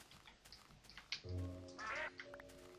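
Duck quacking in the Minecraft video game, a few short nasal quacks in close succession over quiet game ambience, with no talk.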